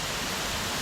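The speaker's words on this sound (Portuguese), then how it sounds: "Acho que é a cachoeira mais alta que a gente tem aqui no parque." A very tall waterfall, roughly 100 metres high, in a park in Santa Catarina, Brazil, roars as a dense, steady broadband rush that stays loud and unbroken throughout.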